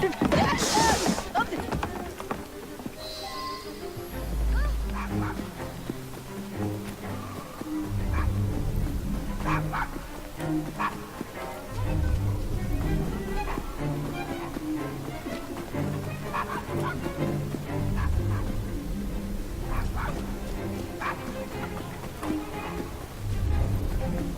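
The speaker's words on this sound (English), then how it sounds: "Just follow the barks" Dog barking in the Assassin's Creed Syndicate video game, short barks scattered through a steady backdrop of game ambience and music, with someone talking over it.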